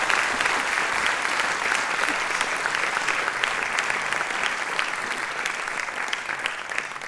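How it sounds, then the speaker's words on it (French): A large audience at the FIFA 2016 awards ceremony keeps up dense, steady applause, many hands clapping continuously at an even level throughout, with no individual voices standing out. "Je pense qu'il mérite plus d'applaudissements que ça."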